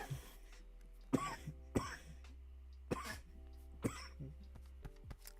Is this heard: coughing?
yes